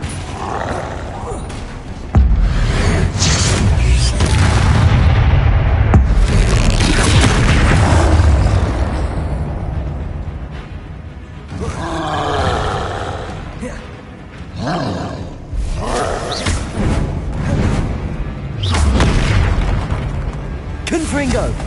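Repeated blasting spell explosions in the Hogwarts Legacy video game, loud booming bursts with roaring rumble through a busy combat stretch, mixed with game sound effects and voice.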